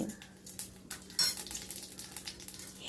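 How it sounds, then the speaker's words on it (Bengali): Whole cumin seeds fry in a pan with whole spices such as cardamom, a soft close sizzle under intermittent clinks and scrapes of a spoon stirring against the pan. "গোটা জিরে একটু ফ্রাই করে নিচ্ছি"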